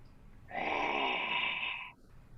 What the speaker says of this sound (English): I could hear you breathing on me.